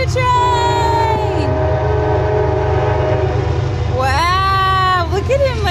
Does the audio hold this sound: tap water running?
no